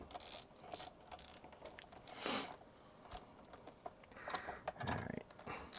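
Quiet, close ratcheting clicks and small metallic rattles come in irregular bursts as screws are worked out of a DeWalt DCS380 reciprocating saw, with faint handling noise between them.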